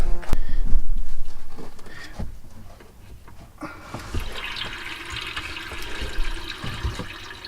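Water running and splashing through the plumbing of a travel trailer being dewinterized, loudest at the start, then a steadier hiss with faint knocks and drips as it continues.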